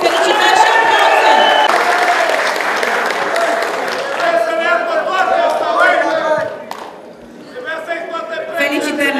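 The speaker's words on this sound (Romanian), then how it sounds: "Felicitări și aplauze!" A crowd at a competition award event claps and cheers for a player, the applause loud at first, then thinning as voices and chatter mix in, with the noise dipping briefly before rising again.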